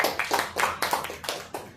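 A short burst of applause, several pairs of hands clapping in quick uneven rhythm, fairly close and moderately loud, with no voices.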